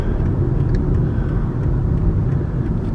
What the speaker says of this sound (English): And there's a big red truck went between us.